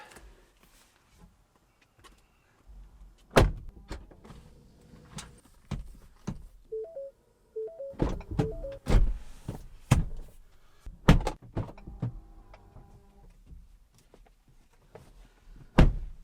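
A car door opens and shuts as someone climbs into the vehicle, with several sharp thuds and clicks, a short whirring motor sound, and rustling movement inside the cabin.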